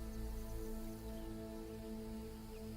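Rainfall in Assassin's Creed Shadows makes an even, unbroken patter over a low drone and thin steady tones, at moderate level with no voices.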